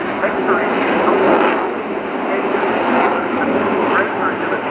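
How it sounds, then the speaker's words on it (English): A Sukhoi Su-30 two-seat multirole jet flies at an airshow, giving a steady loud roar that swells slightly midway, while a commentator talks over it. "There's the Su-30 multi-role two-seater"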